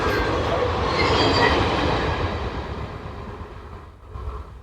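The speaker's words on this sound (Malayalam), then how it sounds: "ഈ ട്രെയിൻ ഇവിടെ കണ്ടിട്ട് അങ്ങനെ പോവാം." A small train rolls past on the railway tracks, loud and close, its rumbling wheels and faint squeals fading as it moves away, then rising briefly again at the end.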